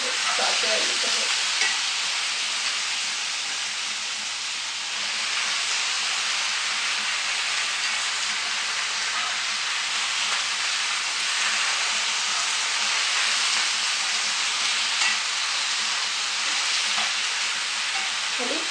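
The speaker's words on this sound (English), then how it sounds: "Saute a little bit." Bok choy sautés in a little oil, giving a long, even, close sizzle with faint stirring noises throughout and no clear talk.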